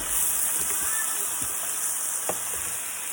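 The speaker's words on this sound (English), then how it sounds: "We're going to go ahead and cook 1 pound of ground beef. And we're going to add onions." One pound of ground beef with onions sizzles loudly and steadily in a pan, a dense close-up hiss with occasional soft scrapes and pops and no voices.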